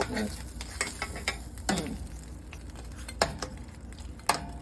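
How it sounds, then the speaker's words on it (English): Smothered turkey wings basting in a pan, with soft stirring and light sizzling broken by a few sharp clinks of a utensil against the pan, close and moderately loud. "I'm on baste my turkey wings here"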